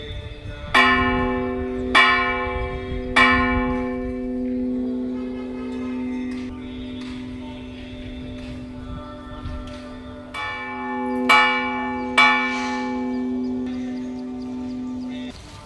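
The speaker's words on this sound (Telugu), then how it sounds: "ప్రాంగణంలో ఉన్న భారీ ఘంటారావం వద్ద భక్తులు గంట మ్రోగించి భక్తితో" Devotees strike the huge bell at the Sri Bhu Sameta Venkateswara Swamy temple in Dokiparru, its heavy clangs ringing out in two clusters and each leaving a long, humming resonance that fades slowly.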